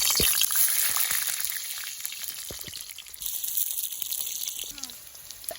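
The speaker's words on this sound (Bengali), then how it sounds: "তেলটা গরম হয়ে গেলে এর মধ্যে আমি আলুগুলো ছেড়ে দেবো। এবার আমি আলুগুলো ছেড়ে দিচ্ছি।" Potatoes dropped into hot oil in a wok crackle and sizzle, the frying swelling and easing across the moment, with scattered pops and light clatter; a voice is faintly present.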